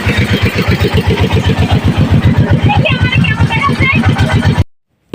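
Trawler boat engine chugging steadily on a family trip across the water near Bholaganj, Sylhet, a loud, close, even rhythmic throb that runs under voices before cutting off abruptly near the end.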